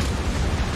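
Dense, rumbling booms of shellfire in the naval battle game World of Warships, a battlecruiser or dreadnought exchanging heavy gunfire, forming a continuous low roar with no pauses.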